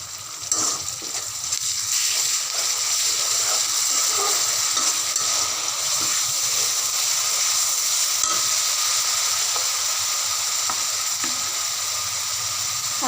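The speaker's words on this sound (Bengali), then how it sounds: "এখন মোটামুটি পেঁয়াজটা ভাজা হয়ে গেছে। এখন আমি 1 চা চামচ পরিমাণ রসুন দিলাম।" Onions and garlic frying in a pan, a steady loud hiss and sizzle that runs throughout, with faint scraping and clicking from stirring underneath.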